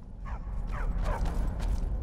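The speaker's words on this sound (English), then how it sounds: "Barks a lot though." A dog in the video game Skyrim barks three times in quick succession, close and fairly loud, over a low steady rumble of game ambience.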